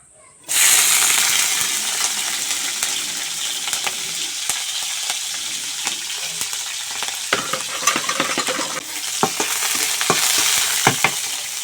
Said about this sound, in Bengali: তেল দিয়ে দিচ্ছি কড়াইতে এখন হচ্ছে এই যে ওই মরিচ কয়টা ছেড়ে দেবো আগে